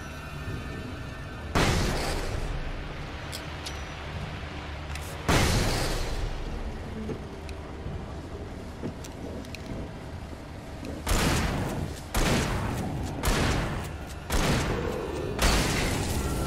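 Gunfire in Alan Wake Remastered comes as loud, sharp bursts, a few separate shots or short volleys spaced several seconds apart over a low, steady background.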